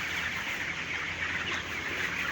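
A shed full of 20-day-old broiler chickens gives off a dense, steady clucking murmur that fills the space evenly without a pause, close and fairly loud throughout.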